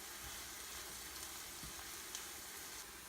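Spinach cooks in a frying pan with a soft, steady sizzle and a few faint stirring scrapes, quiet and continuous with no talking.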